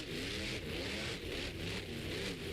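A monster truck rolls off an arena track at a Monster Jam event, its engine a continuous loud growl with rhythmic surges in pitch, heavy and close with crowd and arena ambience underneath.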